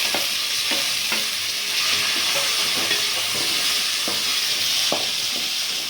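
Onion and tomato sautéing in an oiled pan for a red koduva fish kulambu, a Tamil fish curry: a steady close sizzle with repeated clicks and scrapes from a spatula stirring, and no talking.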